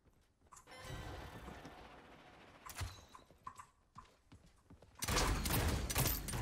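Enemy gunfire in the video game Realm Royale, faint and distant with a few sharper cracks, ending in a louder burst of noisy clatter near the close.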